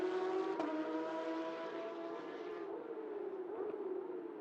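A Porsche Carrera Cup race car at a Middle East circuit, its engine holding a steady, droning high-revving note that shifts slightly in pitch and fades as it moves away, heard at a moderate distance.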